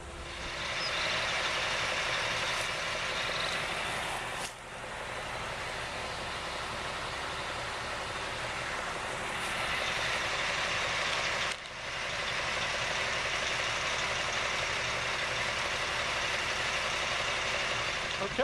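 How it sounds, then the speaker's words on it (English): A septic pump truck pumps out a septic tank with a steady, loud, continuous roar of engine and suction, holding level throughout with two brief dips and no talking. "and now we're going to start pumping it out"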